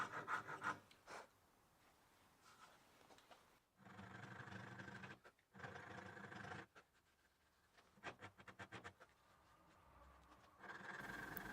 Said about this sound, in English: I'm going to begin carving that in with a half round rasp